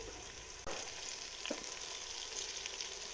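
Onions frying in a pan for drumstick pulao, a sudden steady sizzle that starts abruptly and holds as a dense hiss, with a few faint pops and no voices.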